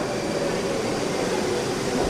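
Inside a Moscow metro train in motion, a steady dense rumble and hiss of wheels and carriage noise fills the space evenly, loud and continuous without distinct events.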